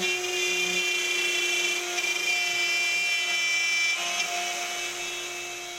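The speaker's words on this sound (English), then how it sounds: "I clamp it in place and proceed to route the edge" A router trimming the edge of a cabinet part, a loud steady high-pitched whine that holds nearly constant throughout and eases slightly toward the end.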